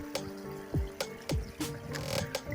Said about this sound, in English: we are in a really cold stream